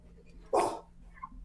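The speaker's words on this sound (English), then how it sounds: "is that your dog?" A single loud bark from a dog inside a house, close and sharp, followed by a faint short whine amid a quiet room hum.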